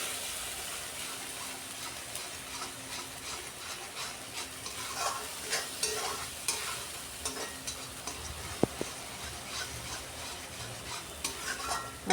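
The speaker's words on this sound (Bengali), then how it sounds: "এবার মশলাটাকে কিছুক্ষণ কষিয়ে নিতে হবে।" Spice masala for a rohu fish curry with pointed gourd and potato is stirred and fried in a pan, giving a soft continuous sizzle with repeated light spatula scrapes, close and fairly quiet, without speech.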